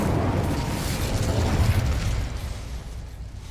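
Incendio fire spell bursting in Hogwarts Legacy, a loud roaring whoosh of flame with crackling, sustained for a couple of seconds and then fading.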